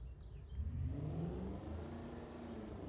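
A truck engine revs up and holds a loud, rough drone close by, steady growling after the initial surge.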